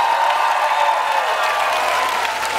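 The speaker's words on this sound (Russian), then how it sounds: "Аплодируйте, ребята!" An audience at a youth camp event applauds, giving steady, dense clapping with a crowd murmur throughout, fairly loud and close.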